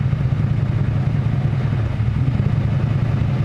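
A Ford F150 pickup engine runs rough with its fuel pump driver module unplugged, a steady low, uneven rumble with faint clattering continuing throughout.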